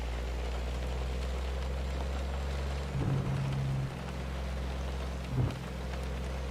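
Steady rain drums over a low truck engine rumble while driving at night on a windy road in American Truck Simulator, with a couple of brief louder swells.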